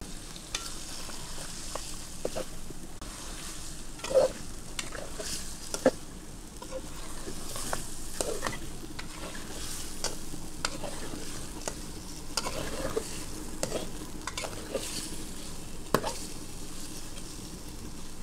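Meat fried and stirred with spices in a pan in a village kitchen, giving a steady sizzle broken by irregular scraping clicks of a spoon against the pan throughout.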